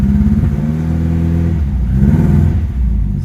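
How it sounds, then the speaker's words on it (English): A Ford Escort RS Turbo engine running loud and close during warm-up, a steady rumbling drone with a slightly uneven, wavering note suggesting a mild misfire. "Seems to have a slight misfire on warm up."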